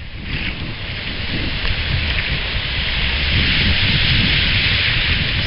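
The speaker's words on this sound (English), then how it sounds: "Yes, it's windy." Steady, loud beach wind roars across the mic, with a broad rushing hiss and low rumble that builds slightly and never lets up.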